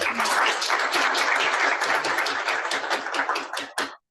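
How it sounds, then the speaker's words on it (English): Audience at a library week panel discussion gives a round of applause, dense and steady clapping that thins to a few scattered claps before stopping abruptly. "please, just give a round of applause"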